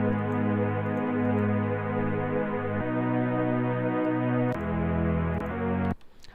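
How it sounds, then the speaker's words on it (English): A super saw synth pad built in the Hammer synth for an intro break: dense, sustained harmonic chords that change every couple of seconds, steady and loud with no voices, cutting off abruptly near the end. "the pad sound is just a super saw which I created in Hammer"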